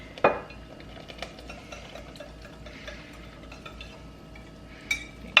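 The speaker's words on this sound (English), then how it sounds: "we are going to pour our wet ingredients right into the bowl or the mixing cup with our dry ingredients. And we'll just whisk" Wet and dry waffle ingredients being whisked together in a mixing bowl, with quiet rhythmic whisk scrapes and a couple of sharp clinks against the bowl, no talking.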